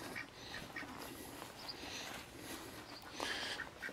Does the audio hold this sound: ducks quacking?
yes